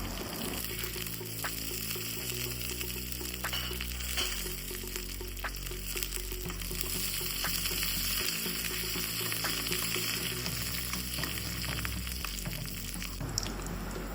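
Shallots and curry leaves crackle in hot oil for a Kerala-style parippu curry tempering, giving a steady, close sizzle with scattered pops and light stirring throughout.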